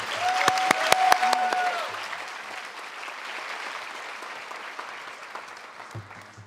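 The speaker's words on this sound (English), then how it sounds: "Please, can I get a round of applause to this amazing teacher" A school honors-night audience applauds an honored teacher: a few sharp, close claps burst out first, then a dense round of applause settles in and slowly fades over several seconds.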